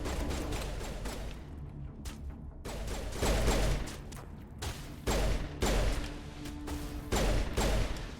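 Pistol fire in the video game Mass Effect 1, loud repeated shots in quick bursts with sharp impacts over a dense layer of game noise, and no voices over it.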